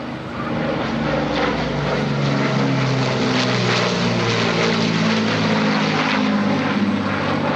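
Lancaster bomber flying at an air festival, its propeller engines producing a loud, steady, throbbing drone with a rich harmonic hum that holds for several seconds without talk.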